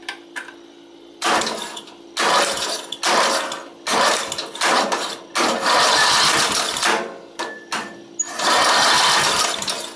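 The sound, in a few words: lawn tractor engine cranking with spark plugs disconnected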